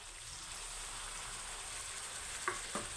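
Ground masala paste of tomato, cumin, garlic, ginger, onion and chilli sizzles steadily in a pan for Madras masala chicken curry, a soft, even hiss with two faint utensil clinks near the end.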